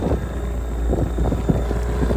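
Steady low-frequency wind buffeting against the microphone, a constant rumbling roar with gusty fluctuations, loud and close, no voices.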